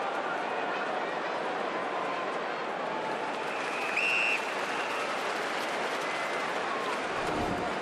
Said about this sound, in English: The crowd are into it right now,